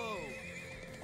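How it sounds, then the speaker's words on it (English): Horse neighing and whinnying in the video game Trails of Cold Steel, a loud, clear whinny over steady hoof clip-clop, with game music running underneath. "That's why we have Turbo Horse."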